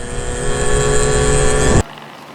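A twin-engine 100cc Zuma moped runs steadily at close range with a buzzing, rattling drone, then cuts off abruptly near the end.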